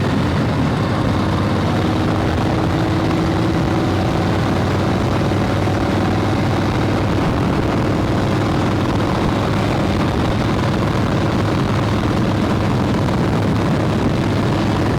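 A 1966 Harley-Davidson Shovelhead big twin motorcycle rumbling steadily while riding, a loud continuous low engine drone mixed with wind roar throughout, no talking.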